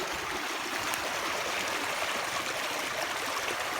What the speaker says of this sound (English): We are draining, Jack.